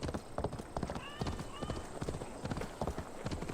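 A horse in Assassin's Creed Valhalla clip-clopping with a steady rapid hoof rhythm, with a short whinny partway through, moderately close and alone.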